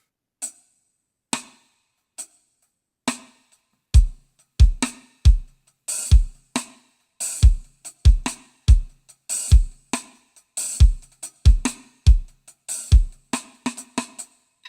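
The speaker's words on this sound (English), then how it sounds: "Most times, cross sticks are played to sound like this." Sharp woody cross-stick clicks on a snare, sparse at first then settling into a steady rhythmic pattern with low kick thumps, close and loud.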